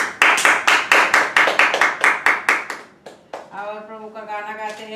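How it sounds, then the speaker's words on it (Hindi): A congregation claps hands in fast, steady unison for about three seconds at a New Year church worship service, then the clapping stops and singing voices begin. "ताली बजा के प्रभु का स्वागत भी करना है"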